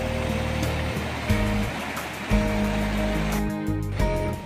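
Water from the Palasdari waterfall rushes in a steady, broadband roar, close and continuous, with a few low tonal hums rising and falling underneath.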